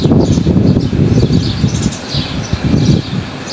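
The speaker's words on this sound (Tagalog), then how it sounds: "Ang ganda pakinggan ng huni ng mga ibon, parang kumakanta lang sila." Birds chirping and singing outdoors in mild, dry weather, bright repeated calls over rustling and wind, moderately close and continuous.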